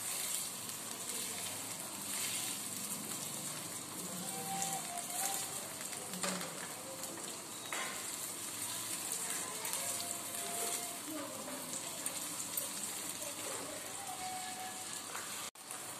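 Boiled potatoes shallow-frying in a pan give a faint, continuous crackling sizzle like light rain, steady from start to finish with no one talking.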